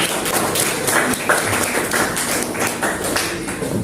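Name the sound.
classroom applause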